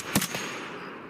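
Gunfire from an AI scav in Escape from Tarkov: one sharp, fairly loud shot burst with a quick follow-up report, then a fading tail, with no talk over it.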